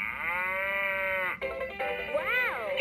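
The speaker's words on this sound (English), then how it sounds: "Hear a cow sound." Cow moo from a LeapFrog purple cow farm toy: one long electronic moo with strong harmonics, followed by a shorter rising-and-falling second moo, clear and close with no talk.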